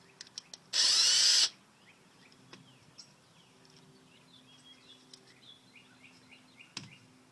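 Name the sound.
power drill with Phillips bit removing servo screws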